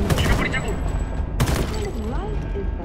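Gunfire in the first-person shooter Homefront The Revolution: dense, continuous shots in loud bursts, with a sharp report near the middle, over game audio and under a voice.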